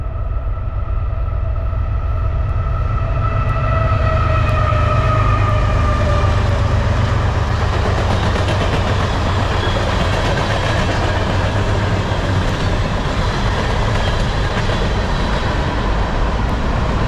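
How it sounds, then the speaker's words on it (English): A train rumbles past loudly and steadily while its horn sounds with a pitch that slides downward as it goes by, in rural northern Wisconsin. "here comes the train."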